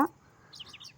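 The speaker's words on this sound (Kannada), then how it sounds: "ಪಕ್ಷಿಗಳು ಚಿಲಿಪಿಲಿ ಅಂತ" Birds chirp outdoors in a short, faint burst of quick high tweets in the middle of an otherwise quiet moment.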